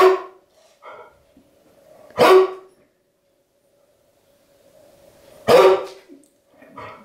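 Two dogs give a few sharp barks, close and loud, spaced out with quiet gaps between them.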